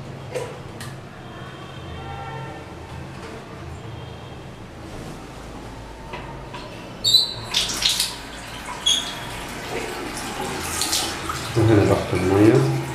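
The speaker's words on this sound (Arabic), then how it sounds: "وهنا ضغط المياه" Water running from a tap in an apartment on the seventh floor of a new tower with a private water pump, a steady hiss that grows into louder splashing bursts in the second half.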